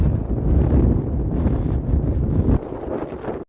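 Strong wind gusts on the Camino de Santiago between Burgos and Hontanas buffet the microphone with a loud, low rumbling roar that eases slightly near the end.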